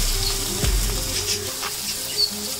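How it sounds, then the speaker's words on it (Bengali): Black cumin fries in oil with chopped tomato and two green chillies in a Bengali fish curry, giving a close, steady sizzle with a brief stirring knock early on. "কালো জিরেটা আমাদের ভাজা হওয়ার পরে আমরা উপর থেকে একটা বড় সাইজের কেটে রাখা টমেটো ও দুটো কাঁচা লঙ্কা দিয়ে ভালো করে মিশিয়ে নিচ্ছি"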